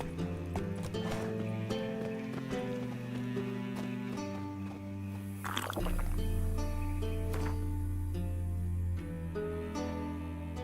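Hoofbeats of the horse Roach galloping in The Witcher 3 video game, a rhythmic clip-clop under layered orchestral game music with a swelling rush midway.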